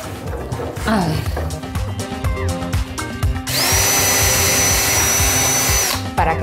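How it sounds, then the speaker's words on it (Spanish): A power drill bores pilot holes into a kitchen countertop, four per cabinet module, sounding first as short bursts and then as one long steady close whine. "Para que la encimera quede bien sujeta, lo que estamos haciendo ahora son unos agujeros guía, cuatro en cada módulo"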